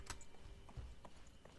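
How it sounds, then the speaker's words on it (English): Horse hooves clop slowly in the Wishblossom Ranch game, a few soft walking steps, faint and evenly spaced, with no voices. "look, we're on a horse."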